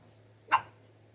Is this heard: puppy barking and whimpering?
yes